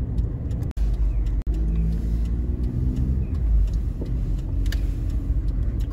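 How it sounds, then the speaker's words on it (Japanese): Steady road traffic passes on a city street in Hakodate, Hokkaido, on a winter Sunday: a continuous low engine rumble and tyre noise from cars rolling by fairly close, with no talk. "車は多いな、やっぱり。"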